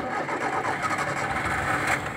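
The engine of a used car on a dealer's lot runs steadily at idle, a close, even mid-range hum with a slight rough pulsing and no voices over it.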